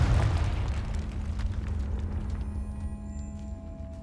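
A Confringo spell explodes in Hogwarts Legacy, a loud, deep booming blast that rumbles and slowly fades inside a decaying catacomb.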